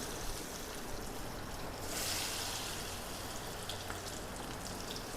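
Chicken pieces deep frying in hot oil give a steady, dense sizzle that hisses evenly for several seconds and swells slightly partway through, with no voices.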